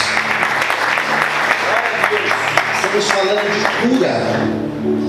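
A church congregation applauding in a sustained wash of clapping, while people speak and sing over it toward the end.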